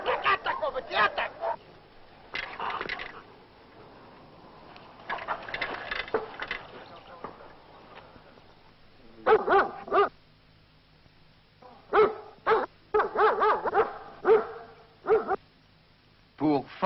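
A German shepherd barks in short bursts and clusters, loud and close, during guard-dog attack training, with a voice urging it on between barks.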